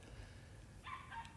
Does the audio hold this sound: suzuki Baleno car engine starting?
no